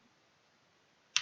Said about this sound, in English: So I'm typing in